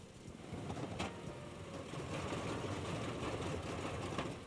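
An F6F Hellcat aircraft engine running steadily during a routine engine check, a continuous droning rumble held at an even level throughout.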